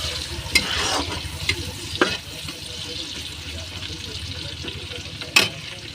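Chopped onion hitting hot oil and frying for a Bengali tehari rice dish, a steady close sizzle with a few sharp clinks of stirring throughout.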